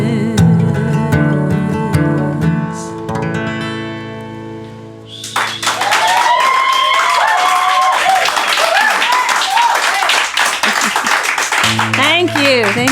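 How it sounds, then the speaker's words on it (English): After a sustained musical note fades, a crowd at the Bowery Vault bursts into loud applause after a song, clapping densely and evenly for several seconds, with a tone returning near the end. "Sounds like a huge crowd here at the Bowery Vault."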